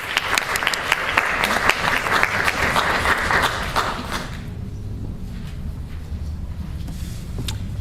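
An audience at a university lecture applauds to welcome the speaker, with dense steady clapping for about four seconds that then fades into the quiet murmur of the room.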